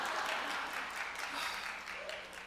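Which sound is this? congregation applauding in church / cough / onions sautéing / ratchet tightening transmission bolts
congregation applauding in church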